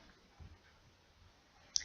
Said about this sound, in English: you click on the share button over here, and then you click on the embed button